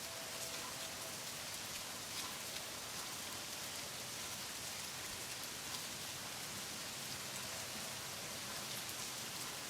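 Steady rain falls on a soft, rainy day, a dense continuous hiss of drops on surfaces throughout, even and unbroken with no voices.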